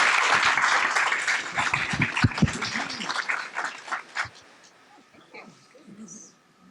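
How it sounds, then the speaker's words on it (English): Audience applause at a school board meeting, a dense burst of clapping with some voices mixed in, fading out after about four seconds into quieter room sound. "let's give them another round of applause"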